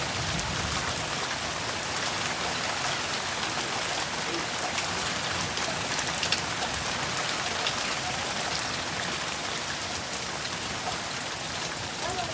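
Heavy rain from a severe thunderstorm in Garretson, South Dakota: a dense, steady hiss of downpour pattering on surfaces, continuous and close, with no clear thunder.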